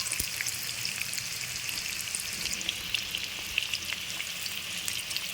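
Sliced onions deep frying in hot oil, a steady crackling sizzle with fine popping bubbles, close and continuous with no voices.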